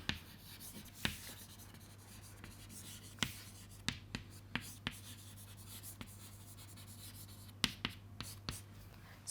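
Marker or chalk writing on a board during a lesson on electric charge: a quiet, steady run of scratchy strokes and sharp little taps spread across the stretch, with no talking.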